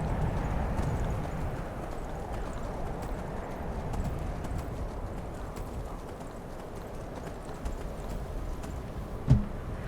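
Horse hooves from the video game Skyrim clip-clop at a steady running rhythm, dense and continuous over a low rumbling background, with one sharp knock near the end.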